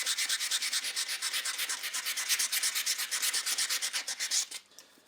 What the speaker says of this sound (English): just do a little bit of sanding